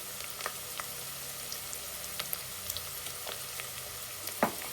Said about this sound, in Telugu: ఇప్పుడు ఇందులో అల్లం వెల్లుల్లి పేస్ట్ వేస్తాం